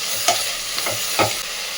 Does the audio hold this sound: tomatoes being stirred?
yes